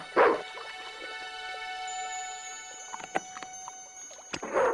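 A dog in the video game Broken Sword 2 gives short yips and barks at the start and end, with faint whimpering in between, set against a sustained tonal game soundtrack.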